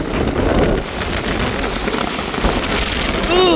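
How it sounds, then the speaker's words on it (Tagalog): Strong wind and heavy rain of typhoon Pepito, a dense constant hiss of rain with gusting wind noise, loud and close throughout with no voices. "So tinutula kami ng lakas ng hangin mga kap."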